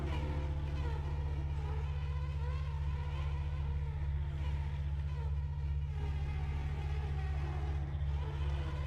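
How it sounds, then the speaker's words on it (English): Bees buzz steadily in the video game System Shock 2, a constant droning hum with a low electrical undertone running throughout, no pauses, moderately loud and close. "Oh, the bees!"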